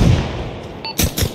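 Gunfire in ARMA Reforger: two loud sharp reports about a fifth of a second apart, each with a short tail, following a stretch of low rumbling background.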